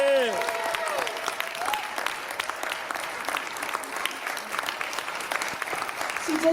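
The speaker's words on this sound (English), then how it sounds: "Give her a round of applause." Steady applause from a crowd at a Black History event, continuous and fairly loud throughout, with a few voices and a brief cheer mixed in.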